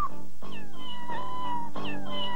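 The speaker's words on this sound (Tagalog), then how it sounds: "Saan ka ba nakakita ng mga muning na nagkakaroling?" Cats meowing in a Christmas carol arrangement, three drawn-out pitched meows in sequence over a steady musical backing, clear and close.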